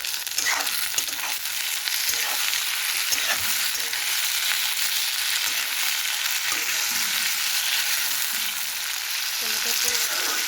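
Tomatoes fry in a wok with a constant, close sizzle, broken by scraping strokes from stirring at intervals throughout, with no speech.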